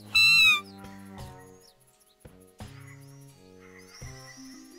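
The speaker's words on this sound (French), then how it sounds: "Ça, c'est le bruit de la femelle wapiti en pleine saison de rut." A female elk call in the hunting game theHunter: Call of the Wild, a loud, high whistling squeal near the start followed by scattered quieter game calls and ambient tones.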